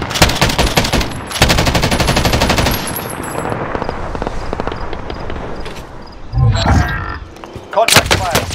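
Rapid automatic gunfire in Call of Duty: Warzone on Rebirth Island, sustained bursts of close shots with brief pauses, followed by a few louder isolated cracks, with in-game radio voice lines over the top.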